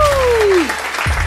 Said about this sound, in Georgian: აპლოდისმენტები იანას, რადგან შენ მიღებული ხარ გუნდში